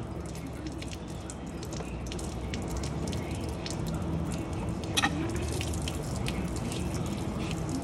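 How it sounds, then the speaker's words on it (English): Water runs steadily from the opened drain valves of a 2023 Lance 825 truck camper, a constant close hiss and trickle with a brief splash near the end. "start draining the water out"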